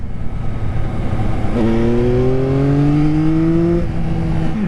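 A Yamaha XSR900 motorcycle's engine revs up under the throttle, its rising tone climbing steadily for a couple of seconds before easing off, loud and close over road and wind noise.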